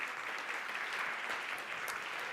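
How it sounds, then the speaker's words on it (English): Dense, sustained applause from a crowd at a charity gala, many hands clapping evenly throughout at a moderate distance, with no speech standing out. "So let's give H2H Co-Foundation a huge round of applause."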